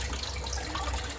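Tap water runs steadily into a filling washtub during dishwashing, a continuous close splashing rush with no pauses and nobody talking.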